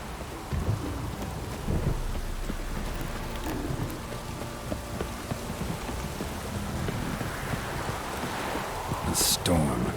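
Steady rain hisses over rumbling thunder in a Witcher 3 storm, a continuous wet wash with a sharp crack near the end.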